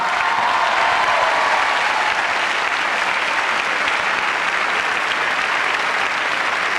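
A large studio audience at a French Eurovision selection show applauds a singer being introduced, a loud, dense, sustained wash of clapping that holds evenly for the whole stretch.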